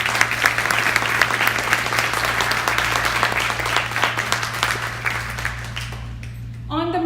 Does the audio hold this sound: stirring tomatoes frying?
no